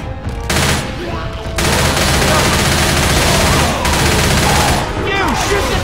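Rapid, dense gunfire from several weapons aimed at the Tank in the Left 4 Dead 2 video game on Xbox 360, loud and sustained in overlapping bursts, with voices calling out faintly beneath.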